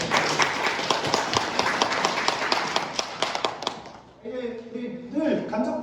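Applause from union members at a labor education session in Jeonju, a dense rapid clatter that fades after about four seconds as a voice comes in and speech continues over the end.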